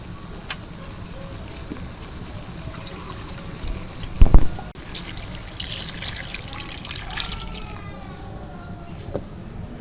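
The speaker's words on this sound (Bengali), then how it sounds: "এবার আলুতে এবার জল দেবো সেদ্ধ করার জন্য" Water trickles and pours into a pot of potatoes set to boil, a light continuous splashing with one brief louder knock partway through, no talking over it.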